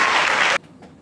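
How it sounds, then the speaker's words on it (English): Applause from a crowd at a national anthem performance: dense, loud clapping for about half a second, then a sudden cutoff leaving a faint room tail. "I'm surprised there's that much of a clap."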